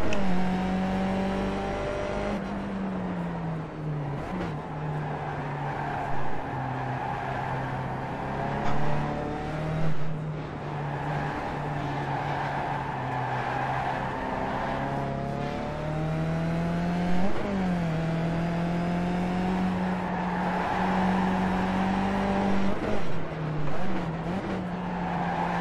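Race car engines in the iRacing sim racing game drone steadily and close, with rising and falling revs across gear changes and occasional tire squeal, with no talk.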